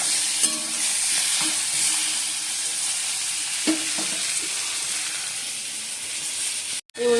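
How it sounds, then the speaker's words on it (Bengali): Pointed gourd frying in oil in a pan, a continuous close sizzle broken by a few scraping stirs, ending with a brief clatter. "আর পটলটা ভাজছি"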